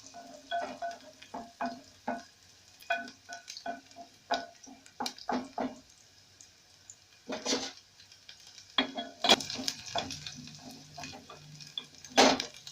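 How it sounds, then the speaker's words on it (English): Ingredients for pizza frying in a pan under a steady soft sizzle, punctuated by irregular scraping and clinking strokes of a utensil stirring against the pan, close and fairly quiet. "You keep stirring them because those at the edge will start to burn"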